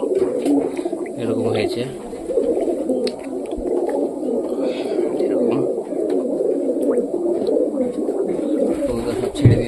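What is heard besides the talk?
pigeons cooing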